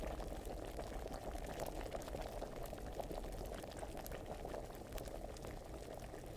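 Potion boiling over a fire during alchemy in Kingdom Come Deliverance, a steady, soft bubbling simmer that continues evenly throughout, quiet and close with no talking.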